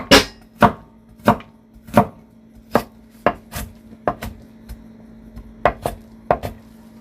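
Carrots are sliced lengthwise with a knife on a cutting board: about a dozen sharp, distinct knocks, spaced unevenly roughly half a second apart, close and clear with a faint steady hum beneath.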